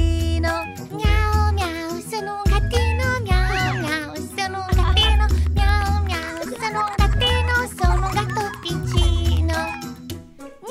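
A cartoon cat meows repeatedly over a children's song in Italian, with bright tinkling music and a steady beat. The meows sound melodic and sung along with the tune.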